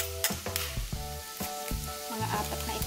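Sliced bitter gourd (ampalaya) frying and browning in oil in a pan, a steady close sizzle broken by sharp clanks and scrapes of stirring, with no voices.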